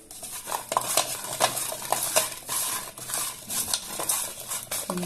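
Cut papaya pieces being tossed with salt and turmeric in a bowl, giving repeated wet, clattering mixing strokes with light utensil taps, close and fairly busy throughout.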